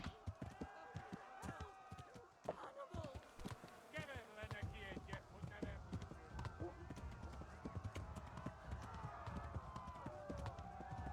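Horse hooves galloping in the game Kingdom Come: Deliverance, a rapid ongoing clip-clop rhythm with buzzing insect-like ambience, heard under intermittent talk throughout.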